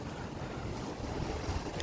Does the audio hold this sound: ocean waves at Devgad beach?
yes